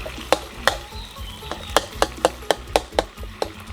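Canned fish chili paste is stir-fried over low heat: a steady run of sharp, rhythmic knocks and scrapes of a spatula pressing and mashing against the pan, about a dozen taps in quick succession over a faint sizzle.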